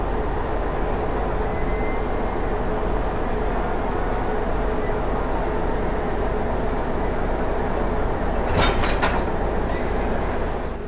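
Steady low rumble of a diesel locomotive shunting slowly from track 1 to track 2, with a brief high metallic squeal near the end.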